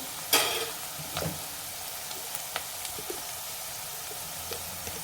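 Turmeric is stirred into a frying curry of broad beans, giving a soft continuous sizzle with scattered scraping clicks from the spoon and one sharper scrape near the start, close and fairly quiet, with no talking.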